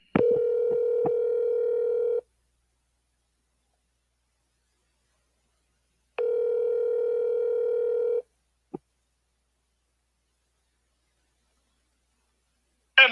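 Telephone dial tone sounding in two steady bursts of about two seconds each, separated by silence, with a few short clicks and a brief rustle at the end, no talking.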